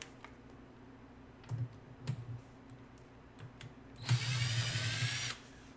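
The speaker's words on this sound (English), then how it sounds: "I got myself a nice little drill." A small handheld power drill whirs in one loud burst of just over a second near the end, after a few scattered clicks and taps during arcade cabinet setup work.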